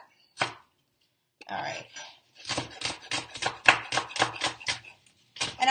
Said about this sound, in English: I'm just chopping all of my green onions at once